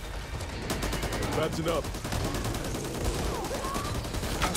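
Rapid automatic gunfire rattles in dense bursts during a Back 4 Blood co-op fight against zombie hordes, loud and continuous, with players talking over the shooting.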